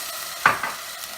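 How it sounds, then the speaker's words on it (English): A sharp burst of sizzling as water hits a hot pan of tortilla strips, flaring up briefly then settling into a quieter hiss. "Here it's sizzling."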